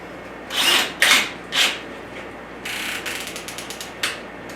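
The keyless chuck of a DeWalt DCD998 hammer drill is hand-tightened onto a 1-inch spade bit, giving several loud ratcheting bursts followed by a rapid run of clicking pawl ticks and a final click.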